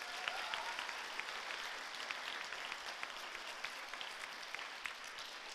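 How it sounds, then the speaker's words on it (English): Audience at a fifth grade promotion ceremony clapping for student council representatives, a sustained, fairly soft wash of many hands with scattered sharper claps, heard from a distance in a large room. "applause."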